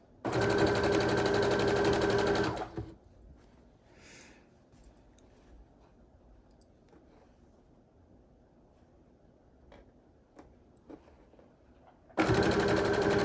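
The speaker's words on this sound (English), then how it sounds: "by chain stitching my 4 blocks, my first 4 blocks, to make 4 of our final quilt blocks." Sewing machine chain stitching fabric quilt blocks, its steady loud whir running for about two and a half seconds, then near quiet with faint handling noises, before the motor starts up again at the end.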